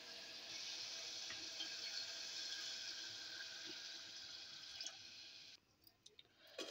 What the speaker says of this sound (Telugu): ఈ గ్లాస్తో నేను ఇలాగే 2 గ్లాస్ ఆఫ్ వాటర్ తీసుకోవాలి ఒక గ్లాస్కి